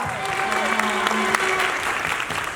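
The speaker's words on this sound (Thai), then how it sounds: "ปรบมือหน่อยฮะ" Thai boxer Bee Chanchaem, a Paris 2024 Olympian, is greeted by an audience with steady, continuous applause, a dense wash of clapping with faint voices and tones woven underneath.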